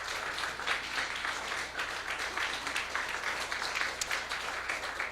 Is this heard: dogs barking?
no